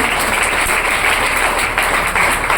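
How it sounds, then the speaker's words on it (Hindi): Dense applause fills the space, many hands clapping steadily and loudly with no break. "जोरदार ताली होनी चाहिए।"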